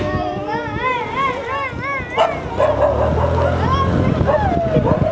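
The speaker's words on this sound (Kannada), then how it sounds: "ಯಾವುದೋ ಡಾಗ್ ಬರ್ತಾ ಇದೆ ಹಿಂದಿನಿಂದ" A dog barks and yips repeatedly from behind a crowded vehicle carrying several riders, the barks rising and falling under steady engine and road rumble while someone talks over it.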